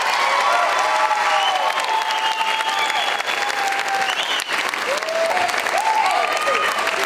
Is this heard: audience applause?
yes